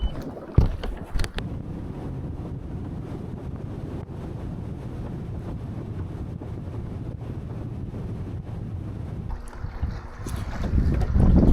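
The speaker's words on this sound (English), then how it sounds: "this wind has just been killer" Strong wind buffets the microphone while out bass fishing on a boat in Arkansas, a steady roaring rumble of gusts and water, rising louder near the end with no talking.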